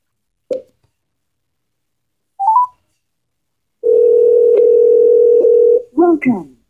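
A telephone dial tone hums steadily for about two seconds while a number is being called, preceded by a couple of short clicks and beeps and followed by a brief burst of sound.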